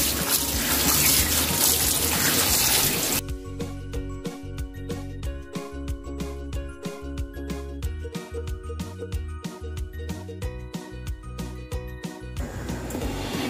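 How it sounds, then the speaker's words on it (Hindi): Water runs steadily from a tap for a few seconds over spinach being rinsed, then a stretch of rhythmic clattering and rustling before the flow returns briefly at the end. "अब ऊपर से हम इस तरह इसके ऊपर पानी डालेंगे ताकि कोई भी मिट्टी होगी तो वो भी निकल जाएगी।"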